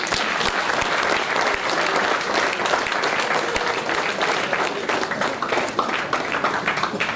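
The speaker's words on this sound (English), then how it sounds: "May I request the gathering to welcome all our dignitaries with a warm round of applause." A gathering at the valedictory ceremony of an international conference gives a warm round of applause, loud dense clapping sustained throughout.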